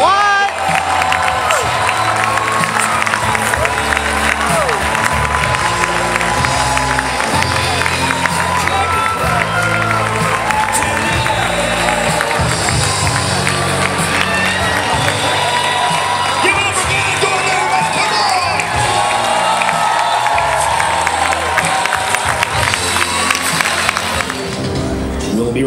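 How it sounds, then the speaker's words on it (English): Loud, sustained crowd cheering, whooping and applause from a convention audience at a cosplay championship contest, with shouts and voices rising over a steady roar for the full stretch, amid music or PA sound. "Big round of applause."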